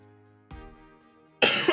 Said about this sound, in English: Sorry, need to cough.